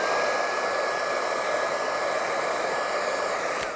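A hair dryer blowing steadily to dry a watercolour painting, a loud, constant whooshing drone with a faint whine, running alone for a few seconds before a click at the end.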